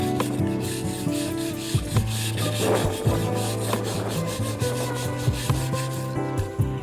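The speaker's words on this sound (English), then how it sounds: "Placing it on the ground and pushing the brush downward on the stave will scrape off the excess char." A stiff brush is pushed downward along a charred whiskey barrel stave resting on the ground, giving repeated close, coarse scraping strokes with a steady rasping texture and no voices.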